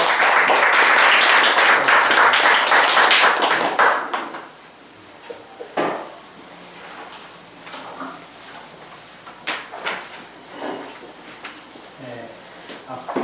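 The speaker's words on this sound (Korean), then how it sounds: "힘찬 박수를 맞아주시면 감사하겠습니다." Forum audience applause rises loudly for the first few seconds, then breaks off into scattered claps, shuffling and a few voices.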